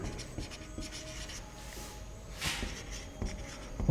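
Pen scratching out a chemistry definition during a lesson: close, quiet strokes and rubs in short bursts with small gaps, no talking.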